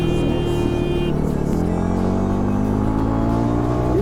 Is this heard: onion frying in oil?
no